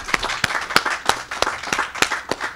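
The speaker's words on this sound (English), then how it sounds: "I want to request another quick shout out to an applause for Joanne DiMaggio and her team over here." Scattered, uneven clapping from a small crowd at a governor's small business relief bill signing, sharp individual claps ringing out about three times a second at moderate distance.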